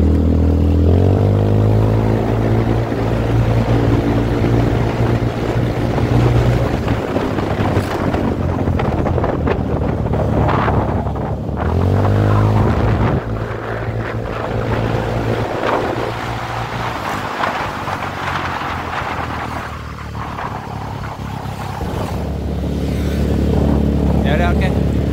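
A Yamaha Freego 125 scooter with a 59mm bore-up, set up for daily riding, accelerates hard along an empty road. Its engine drone climbs and dips in pitch beneath constant heavy wind buffeting on the microphone.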